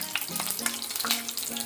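Cashews and cumin seeds fry in hot oil in a kadai for ven pongal, giving a steady close sizzle broken by light stirring scrapes.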